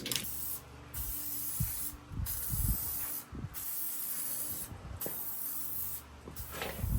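2K aerosol spray can laying a second coat of paint on a car window channel hoop, several hissing bursts of spray separated by brief pauses, close and fairly quiet.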